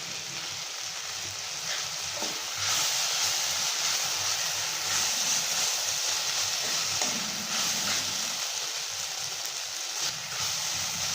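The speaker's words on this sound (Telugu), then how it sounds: "సో ఇలాగా పచ్చివాసన పోయేంత వరకు అంట మీరు బాగా మాత్రం ఫ్రై చేయండి" Ginger garlic paste frying in hot oil in a pan, a steady, fairly quiet sizzle that runs unbroken throughout with faint crackles.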